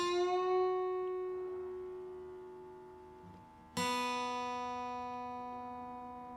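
An electric guitar plays a song's instrumental break: a sustained note rings out and fades, then a sharply picked new note rings bright and decays slowly, with nothing else playing.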